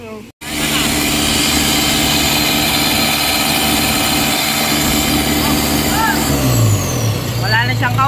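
An Isuzu Trooper's 4JX1 diesel engine running at high RPM: loud, steady mechanical roar close by, with someone speaking over it and the revs dropping toward the end.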